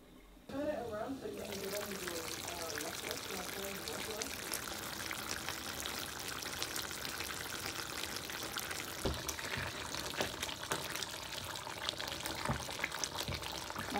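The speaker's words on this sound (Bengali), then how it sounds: "তারপরে আর একটু পানি দিয়ে দিব।" Water is poured into a cooking pot of meat dansak, beginning with a sudden splash and settling into a continuous close pouring and bubbling wash that lasts throughout, with scattered clinks.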